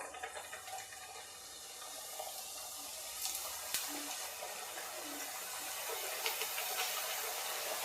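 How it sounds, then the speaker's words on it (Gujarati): Rava maida puris sizzle steadily in hot oil over a low flame, a continuous soft hissing crackle with a few sharper pops, close and alone without talk. "આવી રીતે આપણે બધી તળી લેશું"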